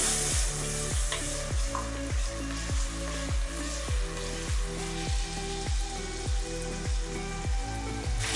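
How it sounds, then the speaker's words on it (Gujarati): Onions sautéing until golden brown for spicy Kolhapuri-style misal, a steady loud sizzle broken by regular rhythmic scraping strokes of a spoon stirring the pan, roughly one each second. "કાંદા ગોલ્ડન બ્રાઉન થાય ત્યાં સુધી આપણે એને સાતડી દઈશું."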